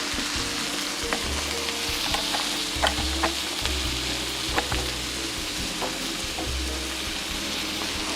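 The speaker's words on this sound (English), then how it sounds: "while it's browning, we're going to hear it sizzle up." Food browning in a hot pan while making pancit and adobo, a steady close sizzle and crackle with occasional sharper pops and stirring scrapes, no voices.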